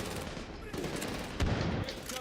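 Rapid automatic gunfire from the shooter game Medal of Honor Warfighter rattles for a couple of seconds, with a louder burst near the end over faint background game noise.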